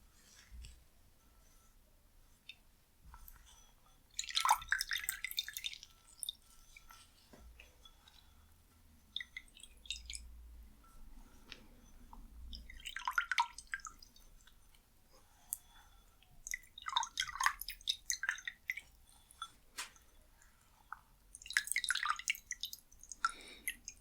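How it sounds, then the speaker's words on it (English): A washcloth is wetted in warm water, with several separate bursts of dripping and wet squishing spread over a quiet stretch, close and intimate, with no talking. "So, I just want to wet my washcloth."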